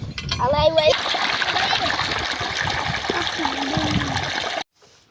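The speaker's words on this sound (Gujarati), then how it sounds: "અહીંયા પાણી નીકળશે જોઈજો ટૂંક જ સમયમાં" Steady rushing splash of water gushing out of an irrigation pipe on a farm under brief voices, a continuous gush lasting several seconds before cutting off abruptly.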